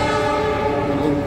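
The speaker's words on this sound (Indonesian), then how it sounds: "jalur 2 kereta angkutan barang" A freight train passing on track 2 sounds a loud, close, sustained horn blast over a steady rail rumble for a brief moment.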